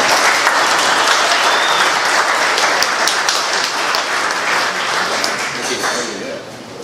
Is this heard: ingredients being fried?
no